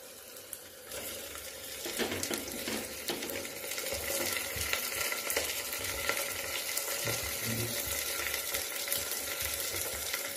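Spices sizzle and fry in oil inside a pressure cooker for chicken masala, a steady crackling hiss that grows louder after the first couple of seconds, heard close with no talking.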